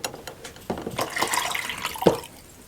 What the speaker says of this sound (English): Take the cup, fetch it, so the child learns how to hold the cup. Fetch water in here